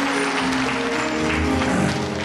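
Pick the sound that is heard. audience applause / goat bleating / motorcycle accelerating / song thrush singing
audience applause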